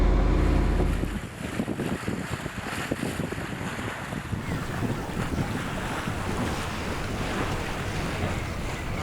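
Oyster 495 sailing yacht setting off from Kiel, heard as steady wind buffeting the microphone over broadband wash of water and waves, constant and fairly loud throughout with no talk.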